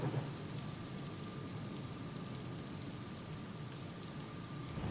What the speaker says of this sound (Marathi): कोल्हापुरातल्या धरणक्षेत्रामध्ये मुसळधार पाऊस सुरू आहे